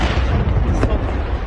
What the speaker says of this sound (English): An explosion rocks the defence facility